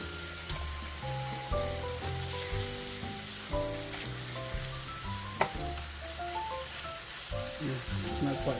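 Beef patties browning in a hot pan give off a steady, close sizzle that runs throughout, with a few soft bumps and a musical backing underneath.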